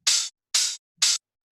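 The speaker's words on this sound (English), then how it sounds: "So the next loop is just some more hi-hats" Three crisp, hissy layered tech house hi-hat hits sound in an even, spaced pattern, bright and close with nothing else behind them.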